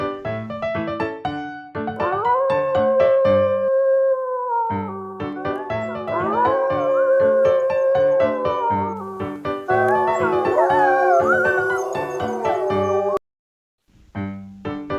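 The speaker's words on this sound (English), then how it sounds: "Wolf." Long, sustained wolf howls, several voices rising and overlapping in a wavering chorus, steady and fairly loud, with a short break near the end.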